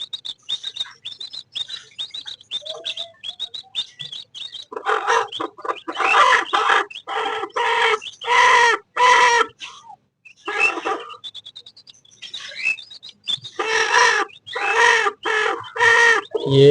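Hens squabble and fight, bursts of loud clucking and squawking coming in rapid clusters with brief pauses, some higher chirps from chicks in between, close and fairly loud with no talking.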